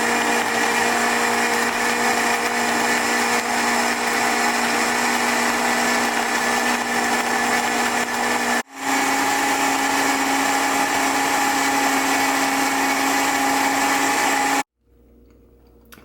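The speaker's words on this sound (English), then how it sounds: "you probably never saw this type of Vitamix before." A Vitamix blender whirs at a high, steady pitch while blending hemp milk, running loud and unbroken for about fifteen seconds with one brief dip before it shuts off abruptly into near silence.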